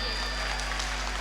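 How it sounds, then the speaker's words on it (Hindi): An audience at a 2023 stage show in Gopalganj claps loudly in a dense, continuous burst of crowd applause, brief and steady throughout. "तालियां बजा लीजिए"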